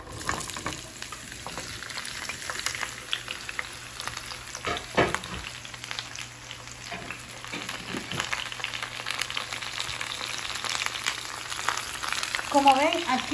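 Chile, tomato and onion fry in a pan for Salvadoran chicken sandwiches, a steady broadband sizzle running throughout with a few louder stirring scrapes and pops.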